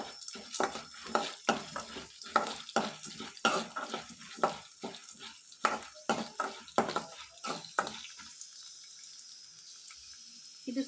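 Chana dal and urad dal fry in hot oil in a pan, a close crackling sizzle broken by rhythmic spoon stirs. The activity eases off and grows quieter near the end, and no one speaks.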